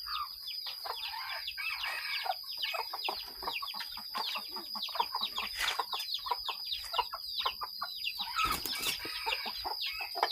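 Many chickens clucking and chattering together in a steady, busy chorus, with a few louder calls and a brief burst of wing flapping.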